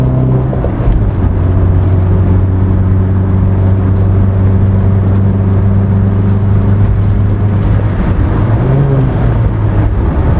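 An Austin Maestro 1.3 van pulls steadily along a road from inside the cab, its engine drone rising in pitch as it gains speed over constant road and wind noise.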